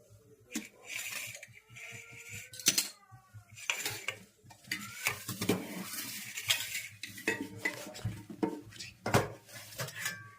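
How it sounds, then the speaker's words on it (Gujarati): Farali sabudana khichdi with potato, curry leaves, ginger and chilies being tempered and stirred in a pot, with intermittent metal clinks, spoon scrapes and clattering utensils at moderate distance. "હા, સરસ મજાની ખીચડી વઘારેલી થાય છે."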